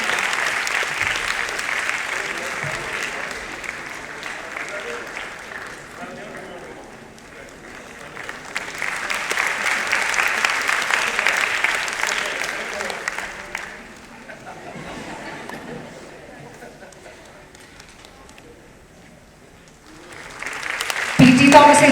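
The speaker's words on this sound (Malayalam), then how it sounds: "കൊച്ചുമിടുക്കന് നിറ കയ്യടികൾ കൊടുത്തുകൊണ്ട് നമുക്ക് പ്രോത്സാഹിപ്പിക്കാം" A packed audience at the P.T. Thomas Educational Excellence Award 2024 evening in Kerala applauds a young boy singer. The clapping is sustained and full, swelling twice and easing between waves before a sharp burst at the end.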